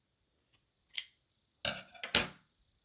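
Scissors snip through knitting yarn while a piece is cast off: a few short, crisp cuts close by, with a faint click first and then a tight pair of snips near the end, otherwise quiet.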